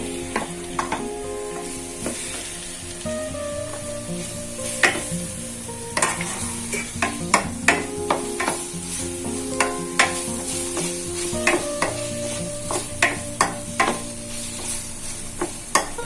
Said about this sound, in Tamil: தக்காளி நல்லா வதங்கணும், அது வரைக்கும் நல்லா வதக்கிக்கலாம்.